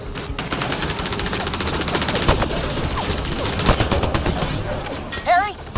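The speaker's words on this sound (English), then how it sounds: "Just keep firing!" Heavy gunfire in the video game Mass Effect Andromeda, rapid continuous bursts of automatic shots crackling loudly throughout, with voices calling out over the battle near the end.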